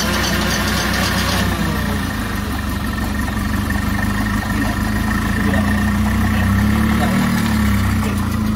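A 1974 Toyota Corolla KE20, a barn find that sat in a garage for fourteen years, runs with a steady, loud, low idle throughout, a slight rev change near the start.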